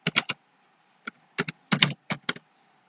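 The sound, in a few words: typing on a computer keyboard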